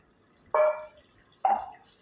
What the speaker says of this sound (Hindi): और यहाँ पे जो मसाले लगे हैं हम इसे भी धुल के डाल देंगे